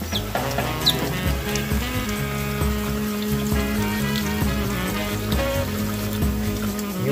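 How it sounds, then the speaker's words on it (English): Running water poured over a hatching chick egg in a hatching room, a continuous trickle heard alongside chirping and clucking of poultry, steady and close with no talking. "You want to just run water on it."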